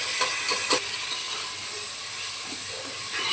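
Chopped tomatoes dropped into hot spices in a pan for a kadhi, giving a steady, close hiss and sizzle with a few brief clattering bursts near the start.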